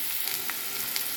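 Onions with turmeric frying in a pan for a fish tomato curry give off a steady, close, dense sizzle that barely changes for its short length, with no talking.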